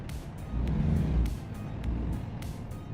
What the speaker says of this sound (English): Cross traffic does not stop.